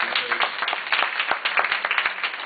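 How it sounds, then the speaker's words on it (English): A crowd applauds with steady, dense clapping that continues evenly throughout. "if anyone would like to give you a round of applause"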